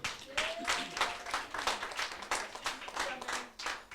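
Congregation in a church applauding God during a French-language sermon, with steady rhythmic clapping bursts pulsing across the room and a few voices calling out over it.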